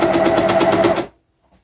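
An overlocker stitching a knit neckband onto a T-shirt, running fast with a loud rapid mechanical rattle for about a second, then stopping abruptly into near silence; up close, no talking.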